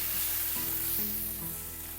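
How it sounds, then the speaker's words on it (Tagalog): Six garlic cloves frying in hot oil in a pan, a continuous close sizzle that eases slightly toward the end, with a faint background hum. "Pag mainit na yung mantika, lagyan na natin yung 6 cloves na bawang."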